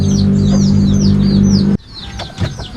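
Chickens on a small farm give short rising clucks in quick succession at close range over a steady low hum, which cuts off abruptly, leaving a few fainter clucks and calls.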